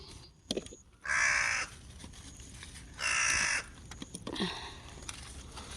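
A crow caws in loud, harsh bursts, three calls spaced a couple of seconds apart, close by over faint outdoor background noise, in a vegetable garden in the Japanese countryside.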